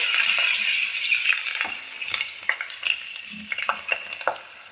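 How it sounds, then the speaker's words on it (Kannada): Garlic with curry leaves frying in a pan for tomato curry gives a close, steady hiss, broken by sharp clinks of stirring that grow more frequent toward the end. "ಎಲ್ಲ ಫ್ರೈ ಮಾಡಬೇಕು"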